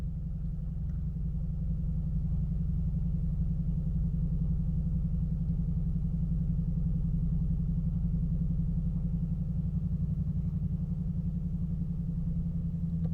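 A car engine idles steadily at close range, a continuous low rumble holding even for the whole stretch with no talk.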